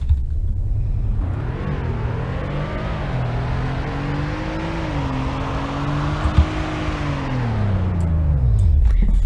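A car in the Roblox game Greenville accelerates hard from a standstill, engine tone climbing through several gear shifts in a loud, close rumble before easing off at the end.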